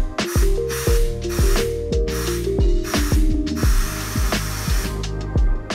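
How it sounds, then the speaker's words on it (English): A can of compressed air blasting into a car's drain channel during winter prep, a series of short hissing sprays in a quick repeating rhythm, loud and close. "I'll give it a few sprays and we'll see if anything comes out."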